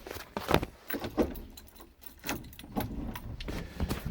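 An ignition key turns in a 1980 Land Rover Series 3 109 to free the steering lock, giving a close run of short key jangles, metallic clicks and small clunks in quick uneven bursts.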